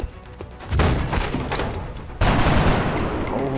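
Soldiers in XCOM open fire, first one sharp rattling burst, then a second louder volley that keeps crackling, close and dense, alone without talk.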